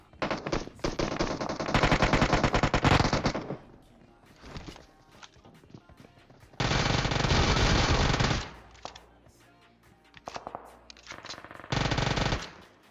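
Automatic gunfire in the battle royale game PUBG, loud sustained bursts of several seconds separated by quieter gaps with scattered single shots and footsteps.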